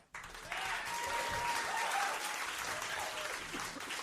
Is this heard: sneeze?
no